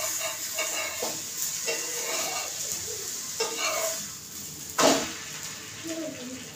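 An uttapam sizzles on a hot pan after being flipped. A steady frying hiss carries faint scraping, with one louder scrape or clatter near the end.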